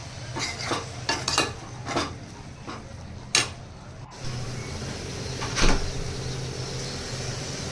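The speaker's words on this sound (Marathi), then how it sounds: "त्यामध्ये 2-3 कोकम टाकून घेऊया आणि चांगलं परतवून घेऊया." Small shrimp with kokum is sautéed and stirred in a pan, a sequence of close scraping and clinking spoon strokes over a low sizzle, with a sharp knock near the middle; no talking.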